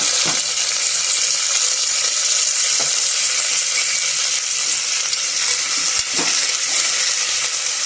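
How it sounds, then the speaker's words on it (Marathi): Flat bean pods (val) hit hot oil for a Khandeshi-style bhaji, giving a loud, continuous close-up sizzle with a few faint clicks and stirs over roughly eight seconds. "तेल गरम झालं आपलं, त्यामध्ये वालाच्या शेंगा टाकायच्या आहे।"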